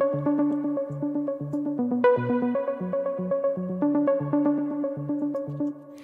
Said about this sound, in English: I added a preset called Saw Pure Muted Bass